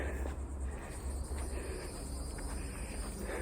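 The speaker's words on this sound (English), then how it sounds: "I'm hearing the sound of bugs. What are those? Are they crickets?" Crickets on a nature trail make a steady, dense insect chorus throughout, with constant high chirping over a low background rumble and no talking.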